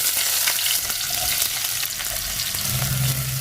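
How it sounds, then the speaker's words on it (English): Onion fries in hot oil with fenugreek and cumin seeds, giving a dense, steady sizzle that crackles close up throughout, with a lower bubbling layer joining near the end. "After sizzling, add onion."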